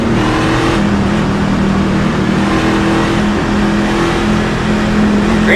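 Craftsman Series race trucks at Daytona roar under acceleration, a loud, dense and steady wall of engine noise with sustained droning tones and no talking.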